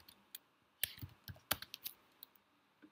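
Computer keyboard typing while writing code, quiet scattered keystrokes in short irregular clusters, close to the microphone with no voices.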